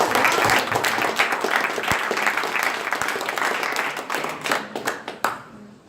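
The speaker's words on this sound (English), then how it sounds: "Loud clapping" An audience at the Startup Weekend Fintech Geneva 2017 opening ceremony claps loudly to welcome the next pitcher, a dense, steady roar of hands that thins into scattered claps and fades near the end.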